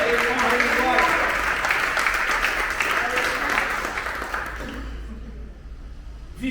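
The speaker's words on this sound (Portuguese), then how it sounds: "Pode aplaudir o Senhor" A church congregation claps together in a dense, steady burst of applause with some voices mixed in. It thins out and fades toward the end.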